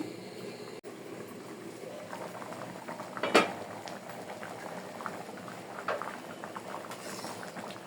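Masoor lentil dal bubbling in a pot on the stove, a steady close-up simmer of popping and gurgling bubbles with one brief louder clink.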